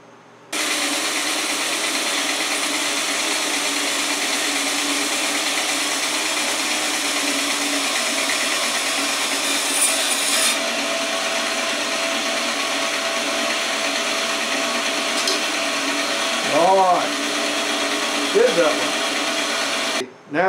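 Power tool cutting through wood to free a Damascus blade for a movie prop knife, a loud continuous whine held steady for nearly twenty seconds, with a voice briefly heard near the end.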